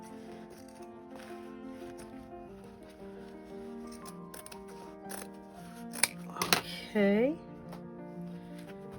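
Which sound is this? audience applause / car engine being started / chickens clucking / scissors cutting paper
scissors cutting paper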